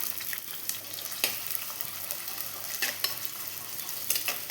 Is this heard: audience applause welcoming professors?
no